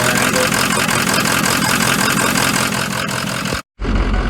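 A Ford 6.0 diesel truck engine idles steadily and loudly, with a belt spinning in its constant drone and a brief cutout near the end.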